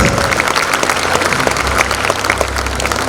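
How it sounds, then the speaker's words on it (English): Audience applause at a school annual day endowment awards ceremony, steady dense clapping from a large crowd of parents filling the whole stretch at a loud, even level. "give a huge round of applause for these amazing achievers"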